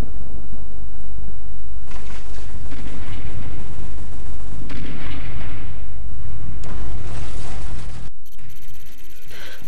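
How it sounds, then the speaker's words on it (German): Tank artillery fire in Command and Conquer Remastered: loud, continuous booming rumbles like distant thunder, with heavy low-end blasts rolling one into the next for most of the stretch before cutting off near the end. "das waren ja wieder die Panzer mit Artilleriegeschoss"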